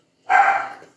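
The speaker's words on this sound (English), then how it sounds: "But sorry about my dog in the bark." A dog gives a single short, sharp bark close by, clear and loud in an otherwise quiet indoor room.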